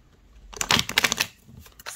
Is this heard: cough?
no